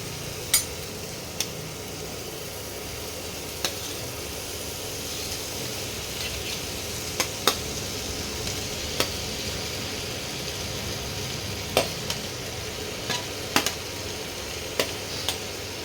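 Fried vegetables, including eggplant, are added to oil with cooked-down spices for a spinach curry with lentil dumplings, giving a steady low sizzle with faint stirring scrapes and scattered sharp ticks of utensil on pan.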